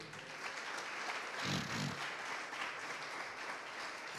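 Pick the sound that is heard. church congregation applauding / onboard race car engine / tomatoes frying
church congregation applauding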